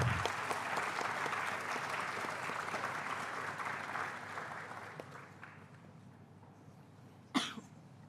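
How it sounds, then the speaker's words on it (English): Audience applause at an HR conclave, a dense steady clapping that fills the room and slowly thins out toward the end, with a sharp cough near the close and no talk over it. "Let's give a big round of applause for Mr. R.J. Kumar Mishra."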